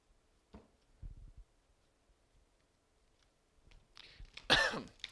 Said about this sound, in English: Random cough.